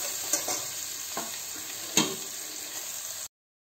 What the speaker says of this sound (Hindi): प्याज हल्की सी ट्रांसपेरेंट हो जाए तब तक हमें नहीं भूनना है